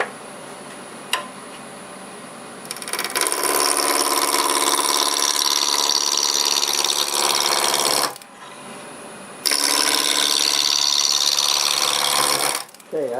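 Wood lathe spinning a workpiece in an inside-out turning project while a spindle roughing gouge cuts at about 1,000 RPM, giving a loud, steady broadband whir in two long bursts with a brief pause between.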